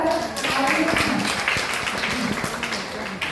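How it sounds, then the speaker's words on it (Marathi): An audience at a medical college lecture event in Karad applauds with dense, loud clapping that swells and continues for several seconds, with voices mixed in. "सगळ्यांनी जोरदार टाळ्या द्या"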